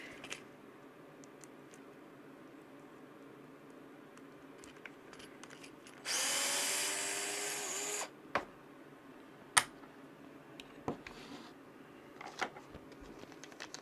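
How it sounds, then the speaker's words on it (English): A servo horn is unscrewed on a Tekno SCT410SL RC short course truck. A small driver gives a buzzing whir for about two seconds, followed by scattered light clicks and taps in a quiet room. "We're going to unscrew this so we can install our new servo horn."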